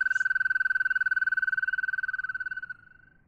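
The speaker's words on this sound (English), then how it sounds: "These are American toads," An American toad gives a single long, steady musical trill, clear and close against a quiet background, holding for almost three seconds before fading out.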